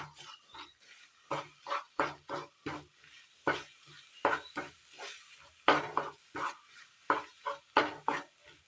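Horse gram stir-fry being mixed with salt in a pan, rhythmic scraping and tapping strokes of a spoon repeating every half second or so, close and moderately quiet with a faint sizzle beneath.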